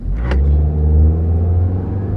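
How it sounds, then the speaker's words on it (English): A Honda car engine at full throttle drones loudly and steadily, a deep low rumble with rising harmonic tones as it pulls hard under load, close and continuous. "let's floor it and see what's left of this engine"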